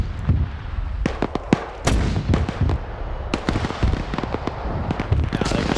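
Mortar strikes landing on a position in a military war game, a rapid series of sharp explosive cracks and booms, some close and loud, others more distant, spread unevenly across the clip.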